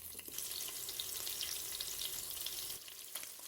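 Chopped onion hits hot fat in a Cookeo multicooker pot, a dense steady sizzle with faint stirring scrapes, close and loud, dropping off sharply near the end.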